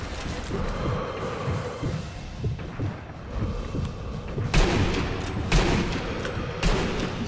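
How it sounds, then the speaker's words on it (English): Rumbling rocket launcher explosions and bursts of gunfire in the Sniper Elite 2 co-op video game, with dense booms and heavy thuds building into louder blasts partway through. "Rocket launcher, guys."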